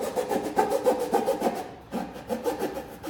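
Cardboard cutter sawing straight up and down through cardboard to cut a circle, a close, steady rasping scrape in rhythmic strokes with a brief pause midway.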